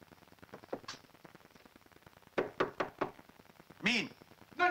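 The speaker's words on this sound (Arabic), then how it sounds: "خبط على الباب" Knocks on a door in a comedy scene: a faint tap, then a cluster of several firm raps, followed by a louder voice calling out and another sound at the end, all close and under light room noise.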